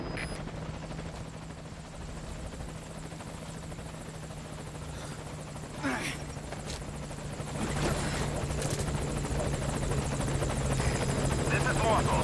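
A helicopter arrives at a landing zone in Metal Gear Solid Ground Zeroes, its rotor a steady whirring drone that grows louder toward the end, with a radio voice speaking over it.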